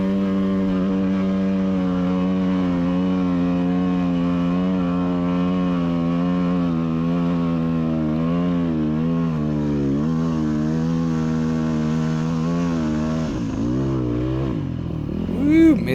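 An off-road motorcycle engine held at full throttle while climbing a steep volcanic cinder hill, a loud, steady high-revving drone close to the microphone that wavers in pitch and surges near the end.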